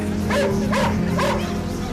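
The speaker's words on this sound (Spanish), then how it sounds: "De repente, empiezan a ladrar frenéticamente." Dogs bark several times in quick succession, excited and close, over a steady low background hum.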